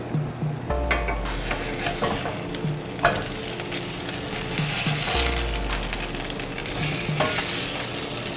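Vegan burgers sizzle steadily in a frying pan, a loud, continuous crackle with occasional clinks and scrapes of stirring, and no talking.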